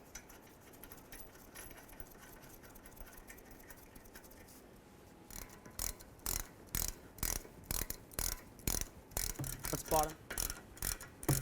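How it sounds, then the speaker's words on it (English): Brake caliper bracket bolts on a 2007-2014 Ford Edge rear wheel are tightened with a ratchet wrench, a quiet start followed by a run of close, rhythmic clicking bursts. "Grab your bracket bolts, and we're going to put them in."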